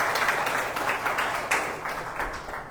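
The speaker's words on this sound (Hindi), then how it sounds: "पास्टर योगी साहब का जोरदार तालियों से हम स्वागत करेंगे" A church congregation at a Sunday evening prayer service claps to welcome Pastor Yogi, a moderately loud wash of applause with sharper bursts throughout, no voices over it.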